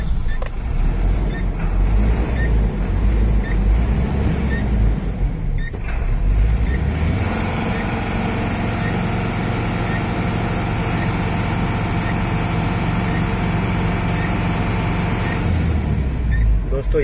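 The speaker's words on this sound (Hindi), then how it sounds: "तो ये था इसका इंजन का साउंड।" A Tata LPT 709 BS4 truck's diesel engine idles with a steady low throb, loud and close, with a brief dip and shift in tone partway through and continuous rumble to the end.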